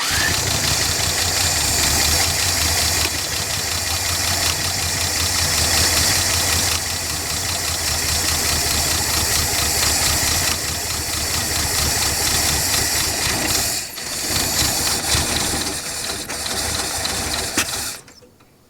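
A 1967 Lincoln Continental, neglected and sitting for 29 years, runs steadily at idle with a fast, even mechanical clatter close by for most of the stretch, then its sound drops away near the end.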